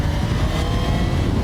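A Suzuki GSF 1200 S Bandit motorcycle engine pulls hard under acceleration, a loud continuous roar with rushing wind noise, close and unbroken throughout.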